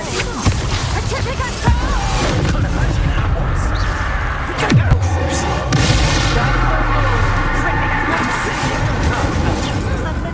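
Fire spell cast in the game Hogwarts Legacy, loud booming bursts with a crackling rush of flame, layered over dense game music and effects.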